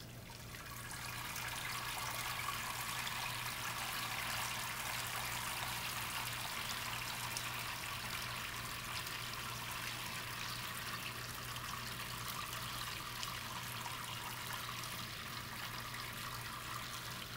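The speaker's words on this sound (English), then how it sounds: "we'll just sparge the grains and rinse them off." Hot sparge water pours in a steady, continuous stream over brewing grains for an Oktoberfest beer, a soft constant splashing that barely changes over time.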